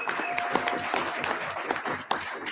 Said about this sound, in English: Round of applause for the Webbers.